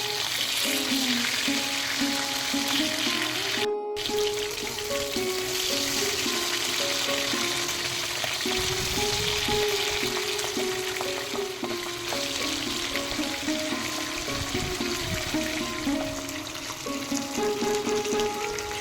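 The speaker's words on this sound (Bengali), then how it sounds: "এবার উল্টো পিঠটাও ভেজে নিচ্ছি।" Pabda fish fry in hot mustard oil in a pan, a dense continuous crackling sizzle heard up close, with occasional stirring and turning clatter as the pieces are flipped, and no voices.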